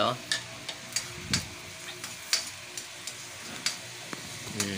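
Garlic stirred in a frying pan over low heat while cooking squid adobo, with a steady soft sizzle and regular scraping taps of the spoon about once every half second, close and clear.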